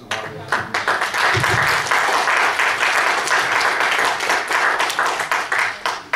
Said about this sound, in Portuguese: São palmas bem merecidas às nossas, à Lígia, à Maria de Fátima e à Matilde.